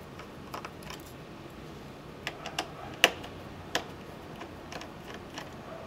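Small screws are backed out of a Dell Inspiron 1525 laptop's screen hinge area, giving sparse, sharp metallic clicks and ticks at irregular intervals, with one louder snap near the middle over a quiet room.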